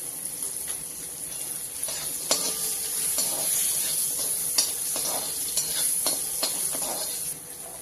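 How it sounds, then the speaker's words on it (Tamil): Oil hisses and sizzles steadily in a pan as spices temper for a broad bean stir-fry, with occasional metallic clinks of a spoon stirring against the pan. "அதுக்குள்ள இந்த அடுப்பில் நம்ம அவரைக்காய் பொரியலுக்கு தாளிச்சு கொட்டி போட்டுடலாம்"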